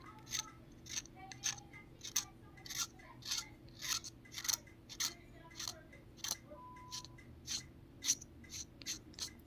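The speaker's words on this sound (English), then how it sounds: "face it at an angle, the sharp edge, and use it for scrape" A sharp blade edge scrapes texture off the rim of a miniature base, making repeated short, crisp rasping strokes at a steady rhythm, close and fairly quiet.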